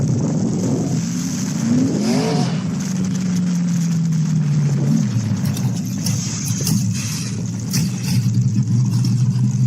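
A car engine revving hard in a yard, pitch sweeping up and dropping as gears shift from second to third, a loud continuous close drone with no talk.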